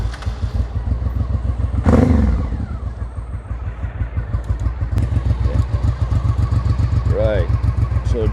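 A motorcycle engine starts and settles into a steady, loud idle with rapid rhythmic chugging, close by, with a brief clatter and a faint voice.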